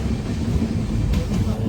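Satavahana SF Express running between Vijayawada and Secunderabad, heard as a low continuous rumble with a brief brighter burst of wheel noise, under a passenger's voice.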